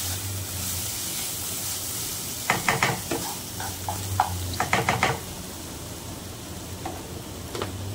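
Potatoes frying in a pan give a constant low sizzle, broken midway by a cluster of sharp clicks and knocks from a utensil against the pan.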